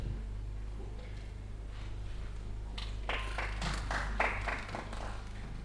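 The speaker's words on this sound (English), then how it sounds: "I think a hand clap is in order" A cold meeting room of audience members at a review meeting on elections breaks into a brief smattering of hand claps, faint and somewhat distant over a steady low room hum.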